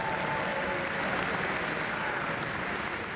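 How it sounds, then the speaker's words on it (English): Steady applause from a banquet crowd for returning alumni at a 25th anniversary Hall of Fame induction ceremony in Buffalo, even dense clapping throughout at moderate level. "One big round of applause for all of our alumni who have come back"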